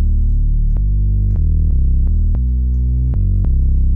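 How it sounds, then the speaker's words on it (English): Droney synth bass, recreated on the DRC synth, a deep sustained tone stepping through a slow sequence of notes with soft clicks at each change, loud, close and continuous without speech. "Let's start with the first one, which is a bass that sounds something like this."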